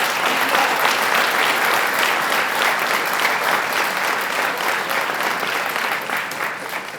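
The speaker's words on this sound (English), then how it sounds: "Would you have a round of applause for all those veterans?" A crowd at a circuit court veterans history event gives veterans a sustained round of applause, thick and even throughout and fading slightly toward the close.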